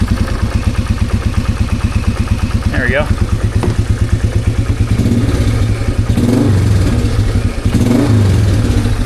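A used 4x4 ATV engine idles with a steady, rapid chugging pulse, then is revved briefly a couple of times, loud and close, while someone speaks a few words.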